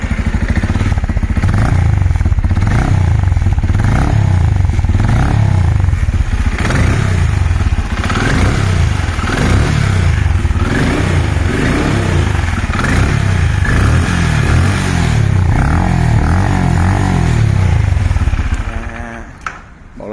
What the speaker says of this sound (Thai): มาฟังเสียงเบิ้ลเครื่องครับผม